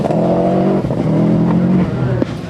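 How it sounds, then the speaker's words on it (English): A Subaru rally car on a loose forest stage among trees at the 1998 Lurgan Park Rally, its engine droning loudly and steadily with harmonic revs rising and falling as it spins, close to the microphone. "John Greer's fan cam is well placed again to capture Kenny spinning the Subaru down among the trees."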